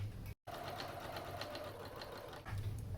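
A sewing machine stitches along the side of a fabric catnip mat with a rapid, steady mechanical whirring. It stops for a brief moment near the start and then runs on, close and quiet.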